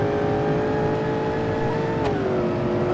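Car engine revving hard in the BeamNG.drive driving game, a loud sustained high-pitched drone that holds steady and then dips slightly in pitch as the throttle eases, with no talking.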